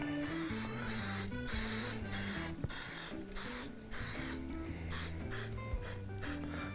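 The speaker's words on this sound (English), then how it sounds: "spray a little non-stick in there" Close, steady hissing of non-stick cooking spray from an aerosol can in several bursts, with pulsing pauses and a faint tone running underneath.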